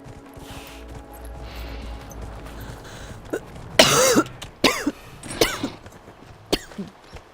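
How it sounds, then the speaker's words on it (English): Several sharp, loud coughs and throat-clearing bursts break out in the second half, spaced irregularly over a low background hum while exploring in an Xbox One game. "Sorry about the coughing."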